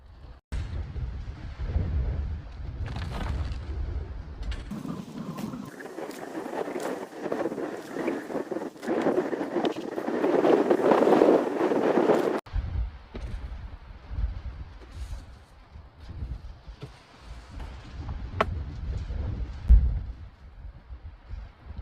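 Wind gusting outdoors around a chicken coop, a steady roaring buffet across the microphone that swells in the middle and then eases, with no voices.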